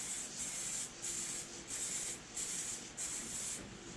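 A Spraymax clear coat aerosol can sprays in short repeated bursts, a steady hiss with brief pauses between each pass, close and moderately loud with no voices.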